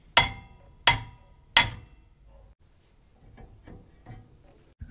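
Three loud, sharp metallic hammer blows strike the back of a stubborn, long-seated brake rotor on a Toyota Tundra, evenly spaced at the start, followed by softer clanks and shuffling as the part works loose.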